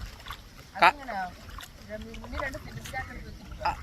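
A wooden country boat is paddled through backwater shallows, with soft water sloshes and a sharp splash of the oar, close by, while people talk over it.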